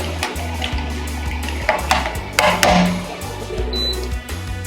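Blanched asparagus stirred in a bowl of ice water: clinking of ice and utensil against the bowl with splashy bursts, close and fairly loud, over a low continuous hum.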